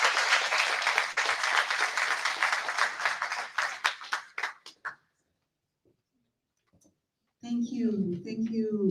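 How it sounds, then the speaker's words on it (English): Audience applause at an innovation and entrepreneurship awards ceremony for innovators, a dense burst of clapping for about five seconds that thins into scattered claps and dies to silence, then a voice begins speaking. "Once again, for the last time, please can you give them a round of applause."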